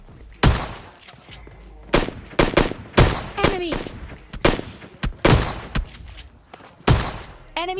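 Shotgun fire in PUBG Mobile Lite: a burst of loud, punchy blasts comes in quick, irregular clusters, with a voice talking between some of the shots.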